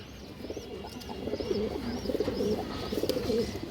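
Pigeons of fancy breeds such as Army, Silver and Khaki pigeons coo in repeated low, throaty phrases at close range, with faint higher chirps above and no talking.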